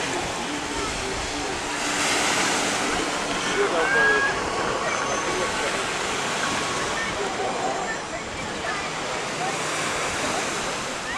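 Steady broadband wash of sea surf breaking on a beach at Zelenogradsk on the Baltic coast, a continuous roar with slight swells in intensity, heard alone without voices.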